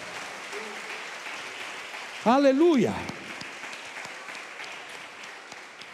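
Church congregation applauding the Lord during a sermon: a steady, soft wash of clapping from a crowd, with a single voice briefly calling out over it midway.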